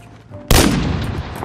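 A single loud, sharp sniper rifle gunshot in a first-person shooter video game, bursting suddenly out of near silence and then ringing out in a long, rumbling decay.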